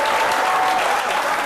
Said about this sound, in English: a round of applause for these gentlemen